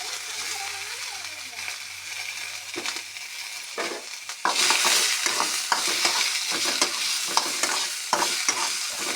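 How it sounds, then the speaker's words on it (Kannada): Chopped cabbage sizzling and frying in a pan, stirred with steady scraping and clattering strokes that get louder and busier partway through, close and fairly loud. "ಸ್ವಲ್ಪ ಚೆನ್ನಾಗಿ ಫ್ರೈ ಆಗಬೇಕು"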